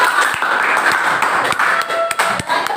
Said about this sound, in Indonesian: berikan tepuk tangan untuk kelompok selanjutnya